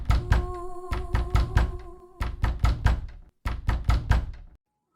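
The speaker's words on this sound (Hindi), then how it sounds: "और फिर से दरवाज़ा बजने लगा।" Cartoon sound effect of loud knocking on a door: about fourteen sharp, close raps in quick bursts separated by short pauses, then silence.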